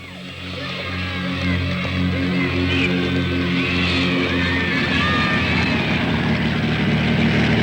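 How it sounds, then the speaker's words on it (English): A missionary propeller aircraft flies over New Guinea with a steady, droning engine hum and the rising whine of the propeller, sustained and fairly close, with no talking. "our aircraft, flown by Brother Jerry and Nairon, a lay missionary, has a good reputation for its high efficiency and reliability"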